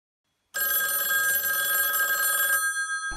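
An old low-voltage telephone bell rings steadily for about two seconds after a silent start, loud and close, then cuts off abruptly.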